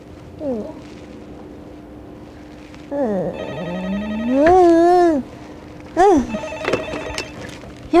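A telephone rings on a Korean TV broadcast in a few separate bursts of bright, warbling electronic tones with gaps between them, loud and close.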